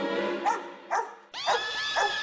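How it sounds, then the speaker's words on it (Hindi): A dog gives four short, sharp, yipping barks in quick succession, close and fairly loud, with a brief pause midway. "ये कुत्ता तो कितना भौंक रहा है"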